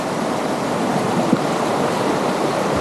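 The Buritaka River rushes past in a steady, loud wash of flowing water during a crossing, close and unbroken, with no voices.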